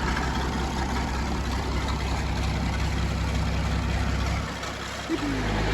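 A Massey Ferguson 1250 tractor engine idles with a low, steady rumble close by, easing down briefly near the end before carrying on.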